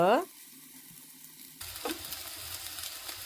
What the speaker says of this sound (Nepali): अब सोयाबिनलाई चाहिँ हामीले मजाले चलाएर फ्राई गर्नुपर्छ।